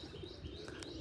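Pigeons, including a male bird, kept by a hobbyist: a brief soft coo and chirp, faint and close, heard alone without talk.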